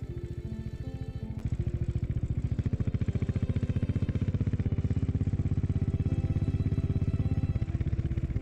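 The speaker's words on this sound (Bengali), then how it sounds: "ধকধক শব্দে এগিয়ে গেল স্রোতের বাইক" A motorcycle's thumping single-beat engine idles, then pulls away, its steady rapid chugging pulse loud and close, holding an even rhythm throughout.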